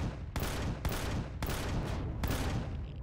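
Four loud, evenly spaced bursts of rapid automatic gunfire are aimed at a turret in Empyrion Galactic Survival. Each burst lasts about half a second, is close and sharp, and no voice is heard over it.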